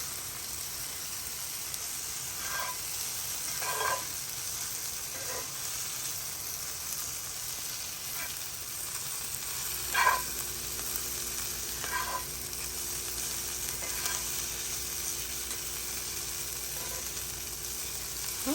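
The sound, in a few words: flour cooking in a frying pan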